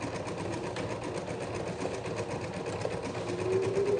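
A Husqvarna Ruby sewing machine runs steadily with a fast, even mechanical whirr and needle clatter, close and continuous, picking up slightly in speed toward the end.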